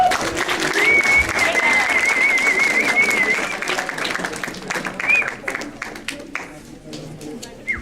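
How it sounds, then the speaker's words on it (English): A student meeting audience applauds a guest speaker, dense clapping that starts strong and gradually thins out, with a whistle and voices mixed in among the crowd. "Another round of applause."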